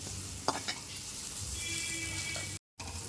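Beetroot and crushed garlic fry in a pan with a steady soft sizzle, while a spoon stirs with a few scraping knocks near the start. A brief dropout cuts the sound late in the clip.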